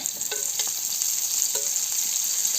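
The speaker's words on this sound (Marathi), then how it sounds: "हे बघा आता आई तेल टाकून घेते कांद्यामध्ये" Onions fry in oil in a pan with a bright, steady hiss, broken by a few quick knocks of a utensil stirring.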